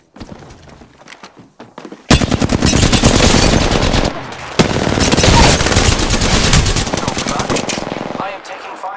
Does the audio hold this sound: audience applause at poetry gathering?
no